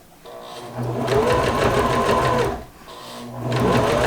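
A sewing machine stitches a blackout curtain seam in two close, loud bursts of rapid mechanical whirring, separated by a brief pause.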